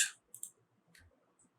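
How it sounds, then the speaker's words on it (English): A computer mouse clicking a buy button: a couple of sharp, close clicks near the start and one softer click later, isolated against a quiet background. "just clicking buy"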